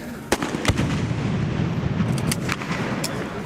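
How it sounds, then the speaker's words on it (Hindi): Gunfire exchanged from both sides during a police raid in Lyari, scattered sharp cracks and distant reports over a rumbling background, with several single shots spaced across the stretch. "ये आप देख सकते हैं कि दोनों तरफ से फायरिंग हो रही है।"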